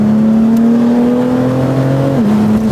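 A BMW M4 fitted with a loud Valvetronic exhaust accelerates with a steady, deep droning engine note that rises slightly, then drops abruptly near the end as the gear changes, very loud and close.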